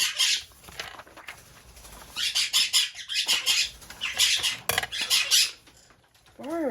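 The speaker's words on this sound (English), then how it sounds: "Birds." Pet birds squawk and chirp in repeated sharp bursts close by, indoors, with brief pauses between the shrill calls and some light clattering around them.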